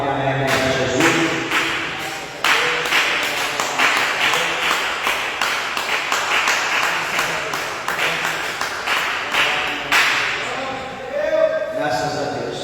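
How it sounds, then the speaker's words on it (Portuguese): A church congregation claps joyfully for Jesus in a brisk, steady rhythm, loud and close, with sharp thuds marking the beat and voices audible beneath the clapping. "dê uma salva de palmas bem alegre para Jesus"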